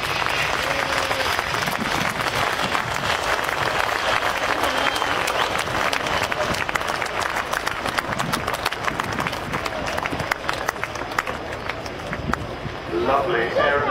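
Spectators at RAF Waddington airshow applaud as the Vulcan XH558 bomber lands, a long, dense burst of clapping nearby and all around, with someone talking over it toward the end.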